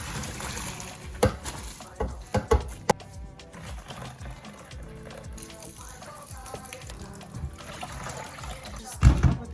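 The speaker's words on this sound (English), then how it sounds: "I'm just going to pour it in a sieve." Hot pasta water is poured from a pot into a sieve in a home kitchen, giving a continuous rushing, splashing pour with clanks and bumps, heard under a speaking voice.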